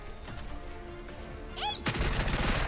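Gunfire in Girls' Frontline 2: Exilium, starting with lighter shots and a brief whining effect, then a loud, dense burst of rapid automatic fire that carries through to the end.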